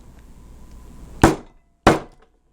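Two sharp metal strikes of a hammer on a steel letter stamp set on a metal jewelry pendant blank, spaced about half a second apart, loud and close, each ringing briefly before silence.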